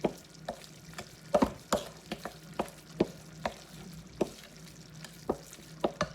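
Dry seasonings being stirred together in a bowl: seasoned salt, black pepper, garlic salt, red pepper flakes, garlic powder and onion powder for a stuffed shells filling. Soft scraping with irregular sharp taps of the utensil against the bowl, close and alone.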